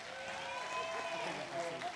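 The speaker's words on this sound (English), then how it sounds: "Give Happy Feet a nice big round of applause" An audience applauds at a live show, a continuous wash of clapping at moderate distance, steady throughout.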